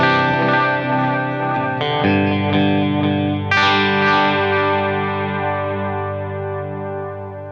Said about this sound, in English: Moving on to the tape delay.